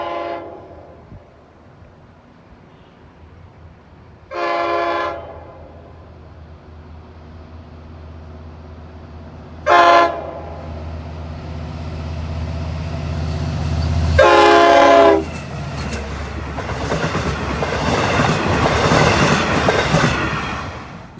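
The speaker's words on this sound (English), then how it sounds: "here comes the Patchogue Scoot, the 4-car set that runs back and forth between Babylon and Patchogue all day" A four-car Long Island Rail Road diesel shuttle between Babylon and Patchogue approaches and passes through Oakdale, sounding several loud horn blasts before a swelling roar of engine and rumbling wheels as it goes by close.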